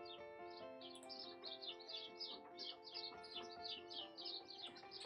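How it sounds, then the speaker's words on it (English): Birds chirp and tweet continuously just outside a window, a busy chorus of short high calls repeating over a steady low indoor hum. "there are birds that are just tweeting right out on the other side of the window"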